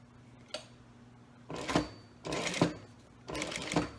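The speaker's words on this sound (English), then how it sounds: "to do 1/8 of an inch top stitch right along this edge on the exterior fabric" Sewing machine top stitching along the edge of a zipper pouch's exterior fabric with a zipper foot, three short whirring bursts of stitching separated by pauses, after an isolated click, fairly quiet and close.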